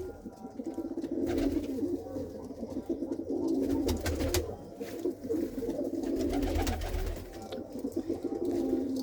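Pigeons coo continuously in a breeding loft, their low throaty calls overlapping against a busy background, close and moderately loud throughout.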